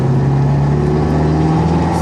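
An Opel Astra Turbo engine holds a loud, steady rev under throttle, a constant droning tone heard up close with no break.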